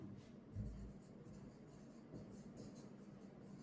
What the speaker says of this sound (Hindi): पहले मोल फ्रैक्शन लिखता हूं,